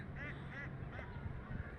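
Three faint duck quacks, spaced evenly and sounding distant, from ducks on water beside rice paddies, against quiet outdoor background noise.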